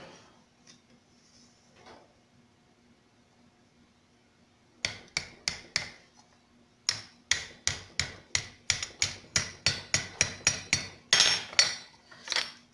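Copper being forged on a hot cut hardy, struck by a hammer in a steady series of sharp, ringing metallic blows, first a few spaced strikes, then a fast regular run of loud close hits.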